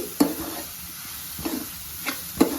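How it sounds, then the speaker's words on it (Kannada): Onion with ginger-garlic paste stir-fried in a pan for chicken sukha, a soft low sizzle punctuated by four distinct scraping stirs of a spoon against the pan. "ಸ್ವಲ್ಪ ಈರುಳ್ಳಿ ಮತ್ತು ಬೆಳ್ಳುಳ್ಳಿ ಫ್ರೈ ಆಗಬೇಕು ಚೆನ್ನಾಗಿ"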